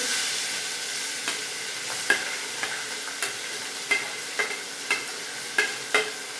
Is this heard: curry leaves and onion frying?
yes